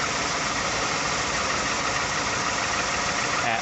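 The 5.0 V8 engine of a third-generation Ford F-150 pickup with over 100,000 miles idles steadily up close, a dense continuous rumble with a faint knocking texture and no voices.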